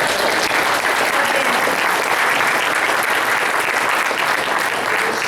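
Audience applause fills a convention hall at a comic-book convention, a dense, steady roar of clapping hands that stays loud and unbroken from start to finish.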